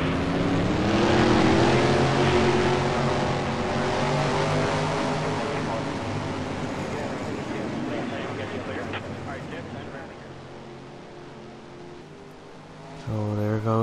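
Stock car engines in a short-track racing video game at Rockingham as the field rolls off behind the pace car, a loud sustained droning roar that fades slightly over time with a commentator talking over it.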